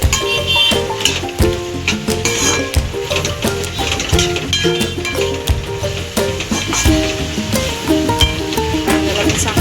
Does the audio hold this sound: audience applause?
no